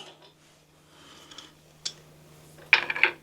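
A toothed camera mount with carbon fiber rod and Grade 8 hardware clicks into place, giving a few sharp ratcheting clicks that end in a louder, closer burst of clicks, with no talk.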